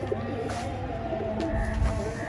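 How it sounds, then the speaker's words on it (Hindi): Pigeons coo in soft, overlapping low calls close by, a steady murmur with a few brief louder thumps and no talk. "नया कबूतर उड़ रहा है ऊपर"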